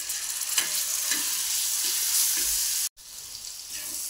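Fish frying in hot oil in a pan, making a loud, steady crackling sizzle with soft bumps of movement, a brief cutout, then the sizzle carrying on.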